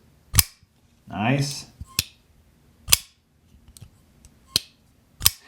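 Sharp clicks from an MKM Goccia pocketknife as the blade is opened and closed, several crisp snaps spaced apart with a brief scraping wheeze between them; a voice speaks a single word.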